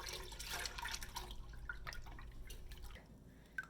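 Water from a can pours and splashes into warm milk and condensed milk in a pot while yogurt is being made, a close, quiet trickling with small drips and no talk over it.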